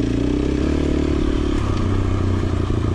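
A heavily loaded dirt bike packed with camping luggage on a trail ride, its engine droning steadily and loudly close by, with light clatter and scraping over rough ground.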